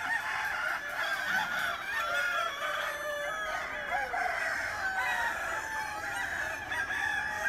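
Chickens fill a chicken garden on a grass-growing farm, a rooster crowing repeatedly over continuous clucking and calls from the flock, loud and steady throughout.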